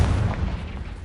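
Booming Bombarda and Confringo spell blasts from the video game Hogwarts Legacy, a dense, loud, low explosive rumble that carries straight through the short moment with no voices.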